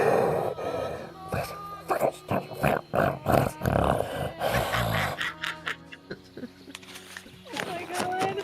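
A man imitates heavy, echoing breathing inside a tin suit of armour, a run of loud rhythmic gasps and snorts, hollow and close, followed by quieter breaths and some talking.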